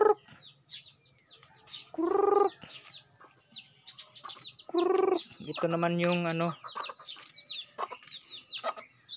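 Chickens cluck and squawk nearby in several short bursts, with a voice speaking briefly between the calls.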